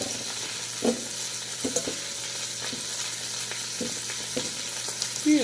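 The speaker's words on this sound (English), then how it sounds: "Let's look at the meat. Look at that. Popping and sizzling." Pot roast meat crackles and sizzles in a hot pan, a steady frying hiss broken by sharp, irregular pops up close, with no talking.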